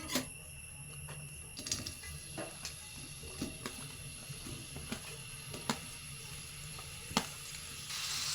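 Onions sautéing in a Kerala-style cheenachatti for cabbage curry: a soft, steady sizzle with occasional scraping stir clicks, close and fairly quiet, no voices.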